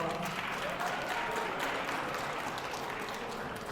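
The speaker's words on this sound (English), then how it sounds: "Let's give them another round of applause." A conference audience at a summit gives a round of applause for the sponsors, a steady, distant wash of clapping that holds evenly throughout.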